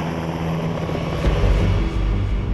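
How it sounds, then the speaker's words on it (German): An NH90 military medevac helicopter drones loudly and steadily, with a low throbbing rotor pulse and engine whine throughout the short stretch. "Den sogenannten Medivac übernimmt ein Hubschrauber des Typs NH90."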